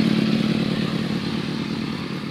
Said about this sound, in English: Being that it is a motorcycle gathering, motorcycles everywhere.